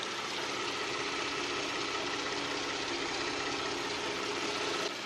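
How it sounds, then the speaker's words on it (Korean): A Kia K9 with a 3.3 GDI engine idles steadily with the hood open, recorded up close, with a constant low rumble and a fine mechanical ticking throughout, no voices. "K9 차량 엔진 사운드까지 담아드리기 위해서 본넷까지 개방을 해드렸는데요"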